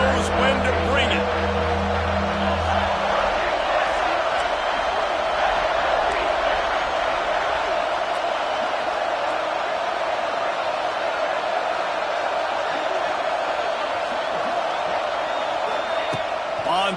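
Crowd noise at a football game forms a loud, steady roar that swells and holds throughout, with an engine-like rumble in the first few seconds and a voice talking over it.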